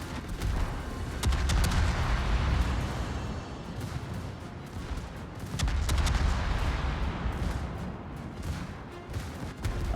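Battleship secondary guns fire in a naval game of World of Warships, loud overlapping booms and rapid bursts rolling continuously with surging waves of gunfire.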